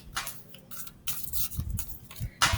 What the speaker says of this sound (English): And you'll see me, I shuffle